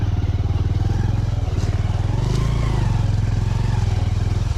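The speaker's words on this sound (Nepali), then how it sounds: "गाडी कट्याङ कुटुङ ठोकिँदा ठोकिँदै पनि" A motorcycle engine thuds in a fast, steady rhythm close by as it rides a rough mountain road between Jumla Bazar and Guthichaur, with occasional clatter and bumps and brief rises in revs.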